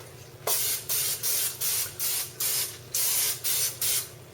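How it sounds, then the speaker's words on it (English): Cooking oil sprayed onto a pan in nine short hissing bursts, close and loud, separated by brief pauses over a low background hum. "So now it's time to re-oil my pan"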